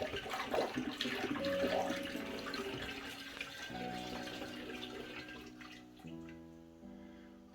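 Water running and sloshing while honey is rinsed from the sides of a container for mead, a steady faint splashing flow that thins out with some hollow filling tones toward the end, close and without speech.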